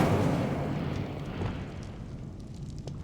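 An Incendio fire spell cast in Hogwarts Legacy: a whooshing, roaring burst of flame that starts loud and slowly fades into a low, crackling rumble, with faint pops scattered near the end.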